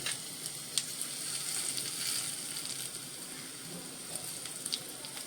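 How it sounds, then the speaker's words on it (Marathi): Cumin and asafoetida sizzling in hot oil, a soft continuous crackle dotted with tiny pops. "हे जिरं टाकायचं आहे आतमध्ये आणि हा जरासा हिंग आपल्याला फोडणीत टाकायचा आहे"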